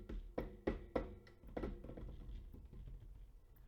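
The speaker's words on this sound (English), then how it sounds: "Light tapping on the desk." Several light taps land in a quick irregular cluster near the start, then soften into fainter taps and low rustling handling noise.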